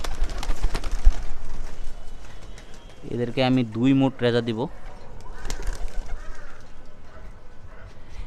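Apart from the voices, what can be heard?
pigeons cooing while being fed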